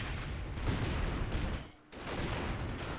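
Mortar rounds firing in a real-time strategy match on a balance mod, a dense stretch of booming gunfire-like blasts with a brief lull before the barrage resumes, loud and continuous.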